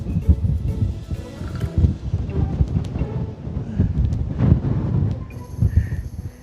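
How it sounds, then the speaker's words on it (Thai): Strong gusty wind buffets the microphone at a mountain viewpoint 1,427 meters above sea level, rumbling in uneven loud bursts with no talking. "โอ้ย ลมอย่างแรงครับ"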